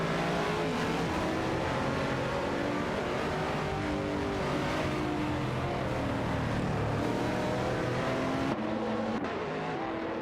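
Several race car engines in a racing video game roar together, a dense layered drone of revving motors with pitches rising and falling as cars jostle for position, steady and loud throughout with a brief dip near the end.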